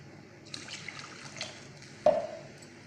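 Water is poured into a pot of potato and pea curry on the stove, a soft brief splash and trickle followed by a sharper pouring burst near the end, heard close and alone.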